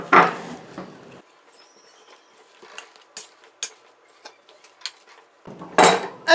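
Boiled potatoes being mashed in a pot with a masher, giving a brief squelchy burst, then sparse clinks and soft taps against the pot, and another dense mashing burst near the end; no talking.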